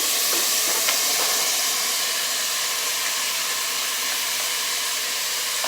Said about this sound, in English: add in this meat, pepper, and onion mixture to the pot. Sizzling.